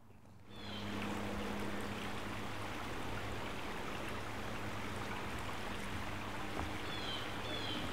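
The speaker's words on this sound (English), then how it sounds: "this is Yellow Creek, flowing on the surface through this section" Yellow Creek running over the surface through David Balfour Park in Toronto, a steady close rushing and burbling of flowing water that fades in quickly and then holds constant.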